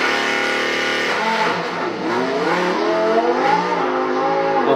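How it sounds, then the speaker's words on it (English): A Lamborghini Huracan Evo with a V10 engine revs hard nearby, a loud sustained high-pitched wail that dips briefly and then climbs again in rising sweeps. "Okay, that has to be a V10. If that's not a V10, I don't know what a V10 is."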